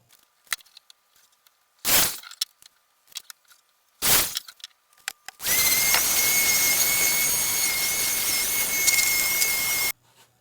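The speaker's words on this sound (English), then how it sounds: "let's countersink it" Power drill countersinking holes in wood while building an elevated dog feeder: two short bursts of the drill, then a sustained loud whine lasting several seconds before cutting off, heard close with no talk.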